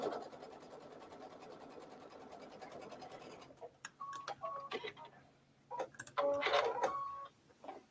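Sewing machine stitching a quarter-inch seam in fabric, a fast rapid mechanical chatter for about three and a half seconds, then stopping, followed by scattered clicks and light handling noises.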